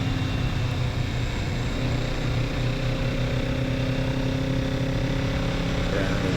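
A 2024 Kawasaki Z650RS motorcycle rumbles steadily on a ride around downtown Reno in autumn, its engine drone dense and continuous with a slight shift in pitch near the end, amid wind rush.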